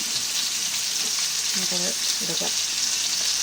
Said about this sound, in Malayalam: ചെറിയ തീയിൽ വറുത്തെടുത്താൽ മതി